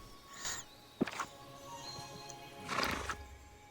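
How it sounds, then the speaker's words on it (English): Horse neighing and whinnying with clip-clop hoofbeats in the Dreamlight Valley video game, a whinny at the start, a sharp hoof knock near one second, and a louder neigh later, all fairly quiet with no talk. "what horse am I on?"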